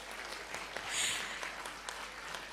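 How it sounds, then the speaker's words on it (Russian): Audience applause at a lecture-concert of Lezgin music, moderately soft, steady clapping with a few sharper claps standing out, and a brief swell in the middle. "разрешите разделить эти аплодисменты вместе с вами"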